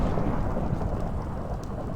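Thunder rumbling through the Nether in Minecraft, a steady, loud low roar of storm noise with rain-like texture that holds throughout without any voices.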